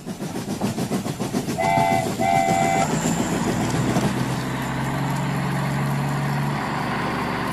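A train rumbles past a level crossing with rhythmic clattering, two short whistle blasts early on, then a sustained low horn tone under the steady roar.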